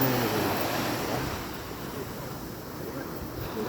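Sea waves wash onto a beach in a steady, broad roar with wind noise on the microphone, loudest at the start and easing slightly, with no voices.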